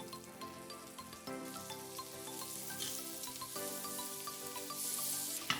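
Two tablespoons of butter sizzle steadily in an Instant Pot after chicken breasts have been seared, with a continuous moderate frying hiss that grows slightly louder toward the end.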